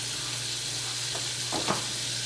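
Butter melting over medium heat in a pan for gravy, giving a steady soft sizzle with a few brief louder pops near the end, close and alone without voices.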